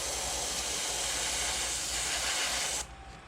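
A spray gun hisses steadily and loudly while paint is sprayed onto a popper fishing lure, a continuous airy rush that cuts off near the end, leaving a quieter hum.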